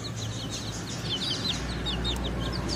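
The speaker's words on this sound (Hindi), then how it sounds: "ये वाले चूजे हम लोग आज लेके आए" Chicks cheep and cluck steadily while eating feed, a busy run of soft, high chirps over a low outdoor rumble.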